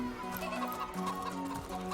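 Roosters cluck in the fantasy role-playing game Divinity: Original Sin, repeated short clucks over a steady musical drone, fairly close and moderately loud, with no voices.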